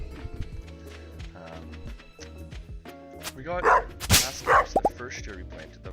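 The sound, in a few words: dog Dawson barking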